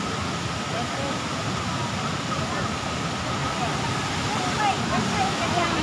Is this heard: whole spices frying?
no